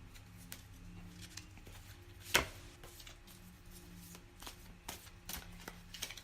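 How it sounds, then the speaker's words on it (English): A deck of oracle cards being shuffled by hand, a run of soft riffling and tapping bursts close by, with one sharper louder riffle partway through and no talk. "Shuffling."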